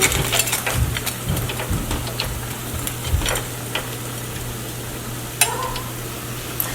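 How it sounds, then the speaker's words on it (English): Chicken pieces fry in hot oil for peanut soup, a steady close sizzle broken by scattered pops, crackles and a few clinks of a utensil against the pan, with no talking. "I also like frying my chicken as well, so I will fry my chicken too"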